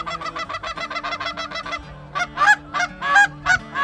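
A flock of geese honks nearby during a Michigan goose hunt, first a rapid run of calls, then slower, louder honks with brief gaps between them.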